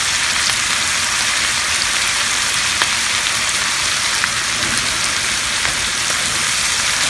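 Very thin slices of liver frying in a hot pan, a loud, dense, continuous crackling sizzle heard up close without pause.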